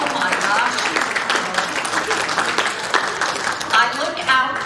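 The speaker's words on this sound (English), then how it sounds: "Give yourself a round of applause." Audience at an evening banjo concert featuring early jazz banjo breaks into a sustained round of applause, dense and steady for several seconds, with voices and cheers mixed in.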